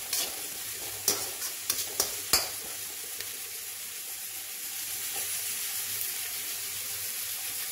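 Onions and garlic sauté in a pan with a soft, continuous sizzle, punctuated early by several sharp spatula scrapes and clicks against the pan.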